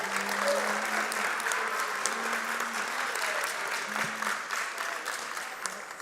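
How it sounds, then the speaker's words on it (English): Audience applause at a national elections town hall, a steady wash of clapping from a crowd that holds evenly throughout, with a faint hum beneath it. "He deserves a round of applause."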